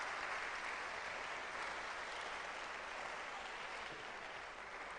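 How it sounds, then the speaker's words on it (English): Steady, sustained applause from the audience at the grand finale of a national public speaking competition at a school, a dense even wash of clapping that holds at a fairly quiet, distant level throughout. "Let's give them a big, big, big, big round of applause."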